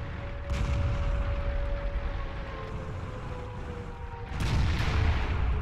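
A WZ-120 tank in World of Tanks fires, followed by a deep rumbling battle backdrop, with two heavy booming shots, one early and one later, over a constant low engine drone.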